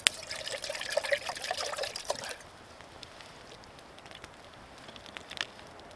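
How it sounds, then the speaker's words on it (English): Water pours from a container into a billy can at a snowy winter bushcraft camp, a steady splashing trickle for about two seconds. It stops abruptly and faint ambient noise follows. "get some water in the billy can."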